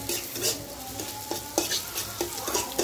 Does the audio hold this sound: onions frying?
yes